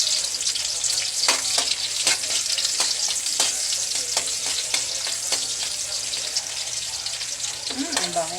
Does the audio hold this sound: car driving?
no